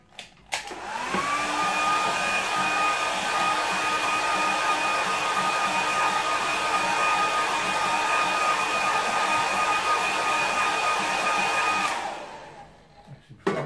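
A hair dryer blows over a watercolour painting of an autumn stream, switching on with a rising whine and then holding a loud, steady, close roar for about eleven seconds before cutting off.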